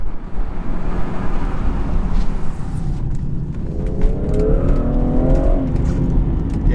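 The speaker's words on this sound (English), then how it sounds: "It does sound good, this car." A 2016 BMW 440i Cabriolet engine pulls loud and close while driving, a steady throaty roar that swells and rises in pitch under acceleration, with no talk.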